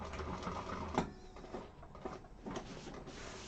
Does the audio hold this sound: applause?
no